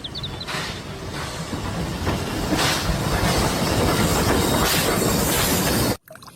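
A battery-powered toy train running on its track, making a continuous whirring, rattling clatter with soft rhythmic clicks that is fairly loud and close, then cuts off abruptly near the end.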